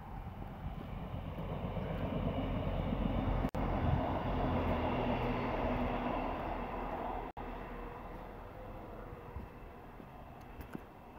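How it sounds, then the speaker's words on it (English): A train rolls past at night along a lane, a steady, broad rumble and rushing roar that holds fairly constant for several seconds with no talking over it. "Here comes the train."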